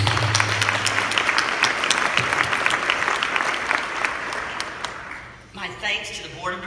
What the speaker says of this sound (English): So please join me in giving you all a round of applause.